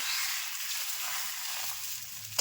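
Pitha batter sizzles on a hot tawa griddle in a steady hiss of frying, with a brief clink near the end and no voices.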